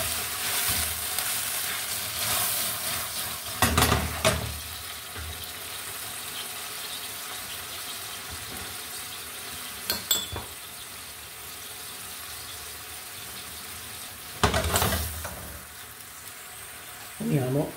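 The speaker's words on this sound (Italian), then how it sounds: "ma prima sfumiamo con vino bianco" Mushrooms sizzle in a pan as white wine is poured in to deglaze, a steady frying hiss punctuated by a few sharp bursts of louder spluttering, with no talking.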